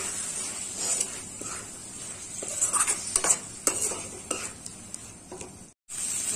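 A spoon stirs chopped tomatoes into a spice masala of coriander powder in a pan, with a bright continuous sizzle and repeated scraping, clinking strokes against the metal.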